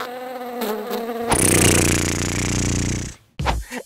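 A loud, steady insect-like buzzing swells in after a few tonal notes, then cuts out abruptly near the end before a short burst of noise.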